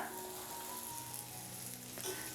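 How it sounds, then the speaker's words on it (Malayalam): Green beans sizzle steadily in a hot pan while being stirred for a Kerala mezhukkupuratti stir-fry, a soft, even frying hiss with faint scraping, quiet and close, no talk. "ബീൻസും ചേർത്ത് കൊടുത്ത ശേഷം നല്ല രീതിക്ക് തന്നെ ഇതെല്ലാം കൂടി ഒന്ന് മിക്സ് ചെയ്ത് യോജിപ്പിച്ച് കൊടുക്കുകയാണ്"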